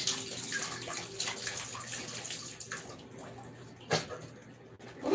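Tap water runs steadily into a dog's water bowl, a continuous broadband splash and gurgle with a brief louder slosh near the end, heard up close with no talking.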